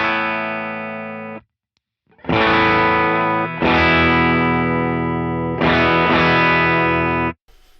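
Electric guitar chords ring out clean and unprocessed, several strummed hits sustaining after a short single-note opening, with brief silences between.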